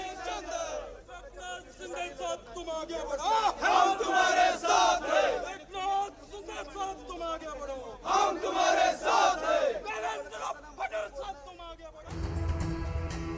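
Marathi state transport (ST) bus workers cheer and shout together in celebration after their strike ends, a loud, dense crowd roar with excited voices rising in waves, then a brief shift to a different noisy scene at the end.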